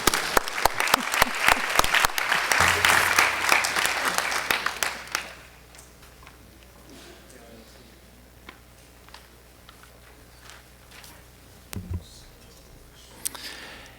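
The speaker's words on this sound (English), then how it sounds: "we can applaud as well" A symposium audience claps loudly for about five seconds, then the sound fades into quiet room tone with a few faint isolated claps and noises.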